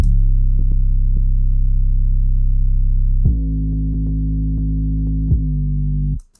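An 808 sub bass loop from the White Maya kit plays as long sustained, deep booming notes, loud and steady, changing pitch about halfway through before stopping abruptly.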